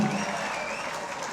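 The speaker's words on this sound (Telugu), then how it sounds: "గట్టిగా big round of applause to Gen Z" An audience at a talk breaks into a brief burst of applause, many hands clapping together in a short, fairly distant wash of sound.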